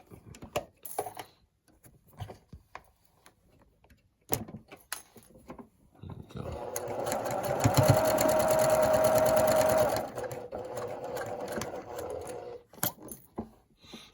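A sewing machine stitches quilt seams in a steady run of several seconds, preceded by scattered clicks and handling noises and followed by quieter shuffling.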